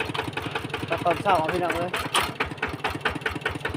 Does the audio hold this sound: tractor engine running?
yes